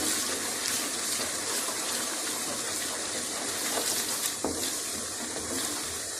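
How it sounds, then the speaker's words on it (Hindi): Half a cup of water is poured into ghee with sizzling ginger-garlic masala for mutton koftas, giving a steady, even gushing and hissing sizzle that holds at the same level throughout, with no talking. "फिर मैं 1/2 कप पानी डालती हूँ।"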